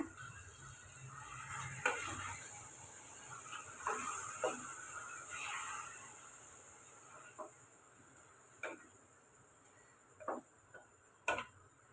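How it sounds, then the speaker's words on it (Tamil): Quiet, steady sizzling of ground masala paste sautéing in a pan for chicken gravy, with occasional sharp clicks and scrapes of a spatula stirring. "அரைச்ச பேஸ்ட்டையும் சேர்த்து இப்போ நம்ம 2 நிமிஷம் பச்சை வாசனை போகிற வதக்கி எடுத்துக்கோங்க"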